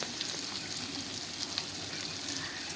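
Lote fish (Bombay duck) frying in oil in a wok, a steady close, even sizzle that holds at the same level from start to finish, with faint crackles and no talking.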